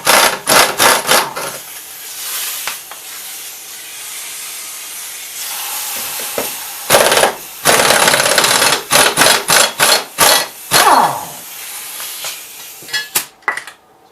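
An impact wrench runs on a 1974 Gravely 408 tractor in bursts of loud hissing, rasping buzz, with short gaps between pulls and a longer steady run in the middle, close up.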